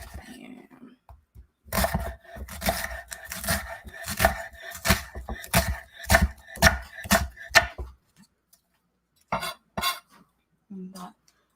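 A knife chopping red onion on a cutting board for potato soup, a rapid run of sharp knocks for several seconds that then stops, followed by a few scattered taps, with a faint voice at the start.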